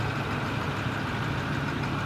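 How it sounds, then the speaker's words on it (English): A steady, loud engine fan on a 2014 International school bus roars continuously with a constant low hum and broadband whoosh, unchanging throughout, no voices. "Probably can't hear me over that engine fan."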